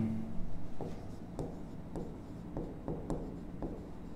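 Chalk writes on a board in a chemistry class, a run of scratchy strokes and taps close by at an irregular rhythm, with no talk over it.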